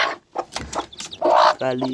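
Chicks of a black hen give a few short, close cheeps and clucking calls amid a broken mix of household sound, ending with a harmonic call.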